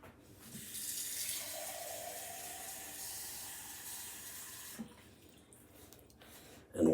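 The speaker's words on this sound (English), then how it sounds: "So now we get a little bit of water." Water runs steadily from a kitchen tap for several seconds during cooking, a soft continuous splashing hiss that cuts off near the end, followed by a brief clatter.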